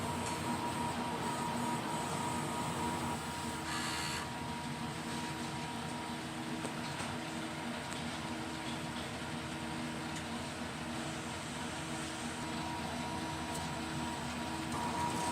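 An inkjet printer runs a print head cleaning cycle, producing a steady, fairly quiet mechanical whir and hum that continues for the whole stretch with only small shifts in tone.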